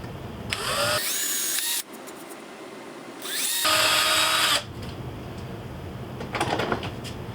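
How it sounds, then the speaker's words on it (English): A power drill bores screw holes in wood in two loud, sustained runs of whirring, each around a second or more long, followed by fainter brief bursts near the end; no one speaks. "I need to drill some holes for where the screws are going to go."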